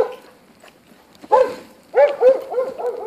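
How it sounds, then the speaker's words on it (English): A dog barks nearby, one sharp bark followed by a quick series of several more, loud and clear against a quiet background. "I thought he was barking at this."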